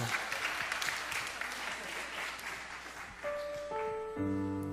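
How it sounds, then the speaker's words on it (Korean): A church congregation applauds during a youth service, steady clapping that fades after about three seconds as sustained keyboard chords enter and hold. "박수 한번 주세요"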